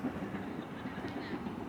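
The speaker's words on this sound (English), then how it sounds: "There's a train actually on the train bridge." A train rolls across a rail bridge near a park in Queens, New York City, heard as a steady, moderately distant rumble with faint clattering and no talk.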